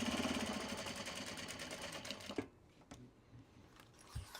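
A sewing machine stitches traveler slings, running in a fast, steady mechanical whir for about two seconds, then stopping, leaving a few soft clicks and handling knocks.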